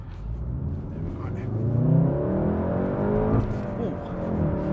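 Steady low rumble of road and tyre noise inside a Volkswagen Golf hot hatch while driving, a continuous broad drone that swells slightly mid-way, with faint engine tone underneath.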